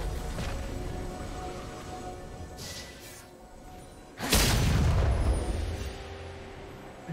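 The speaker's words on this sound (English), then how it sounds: "Blue team's turret has been destroyed." A turret is destroyed in League of Legends with a sharp, loud blast near the end, preceded by a brief whooshing swell and followed by a decaying low rumble over steady game ambience.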